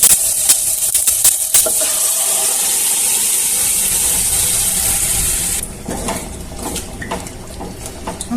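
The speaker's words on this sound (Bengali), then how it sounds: "দিয়ে দিলাম ডালগুলো" Lentils for dal fry go into a pan, producing a steady wet hissing pour with scattered clicks and taps for several seconds, then a quieter, thinner patter of a few small knocks.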